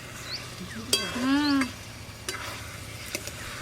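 Chicken coated in ginger paste, turmeric and ghee is stirred and pressed in a pan, giving close sizzling and scraping with a few sharp utensil knocks and a brief high tonal squeal partway through.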